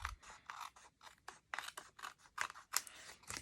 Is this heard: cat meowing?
no